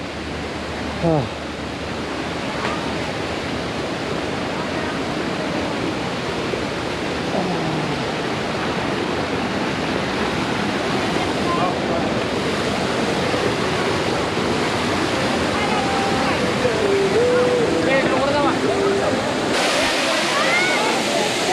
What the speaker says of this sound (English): Finally at the wonderful Dudhsagar waterfalls.